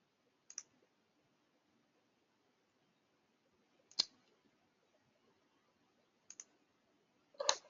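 Isolated computer mouse clicks while working in Advance Steel modelling software, four sharp, quiet clicks spaced a few seconds apart over a faint background hiss.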